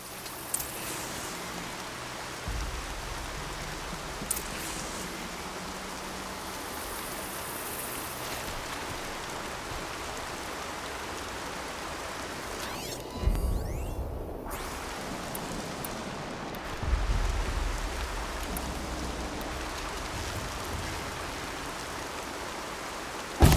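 Steady rain falls in a video game, Horizon, a soft continuous hiss of drops across the whole stretch, with a few brief low thumps and rustles breaking through now and then.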